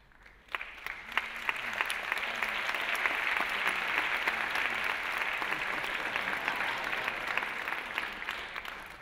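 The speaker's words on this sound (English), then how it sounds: "Tepid applause for kindness and love." Polite, tepid applause from an audience at a public talk with political speakers, a steady wash of many hands clapping that swells quickly and holds at a moderate level for the whole stretch, with no voices on top.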